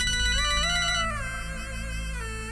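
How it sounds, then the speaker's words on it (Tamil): A phone ringtone plays in a Tamil TV serial scene: a continuous electronic melody of sliding, sustained tones, steady in loudness and heard alone with no talking. "இந்த ஃபோன் வருது"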